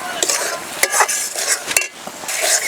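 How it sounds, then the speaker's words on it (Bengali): Ground coconut spice paste with salt is sautéed in oil over low heat, a close sizzle under repeated clattering stirs and scrapes of a spoon against the pan. "উনুনের জাল কমিয়ে দিয়ে তেল ছাড়ার আগ পর্যন্ত কষিয়ে নেব"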